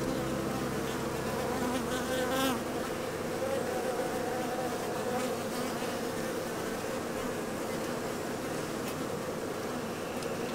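A thick, continuous hum of many honeybees buzzing close by around a homemade hive while a queen is released, steady and fairly loud, with no voices.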